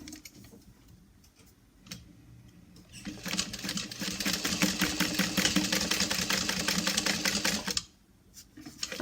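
A sewing machine stitches gusset pieces in a fast, even run of rapid mechanical ticking that starts after quiet handling noises, continues for about five seconds and then stops, nearby, with no talking.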